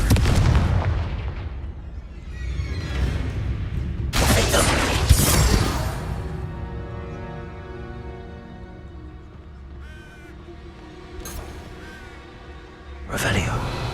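Confringo blasting spell in the Hogwarts Legacy video game, heard as loud booming explosive bursts with long ringing, crackling tails, followed by a further blast near the end, while a voice speaks over the game.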